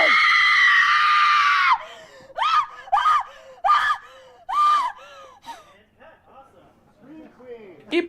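A young woman in the Final Destination film screams in terror, a long loud shriek followed by a run of short, sharp gasping cries and whimpers that fade toward the end.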